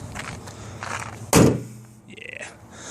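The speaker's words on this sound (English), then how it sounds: "Gonna put the hood down now." The gray hood of a 1995 Saturn SC2 dropped shut in one loud, solid metallic thunk, preceded by faint shuffling and followed by quiet sounds and a soft voice.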